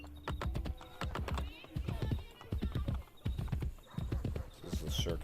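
Horse hooves gallop in a steady, rapid clip-clop rhythm in Assassin's Creed Brotherhood, set in ancient Rome near the Circus Maximus, loud and continuous throughout with a brief whinny-like tone and game sounds layered in.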